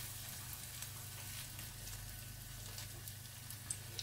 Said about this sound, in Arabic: بدي اروح احمي الزيت ونبلش نقلي فيهم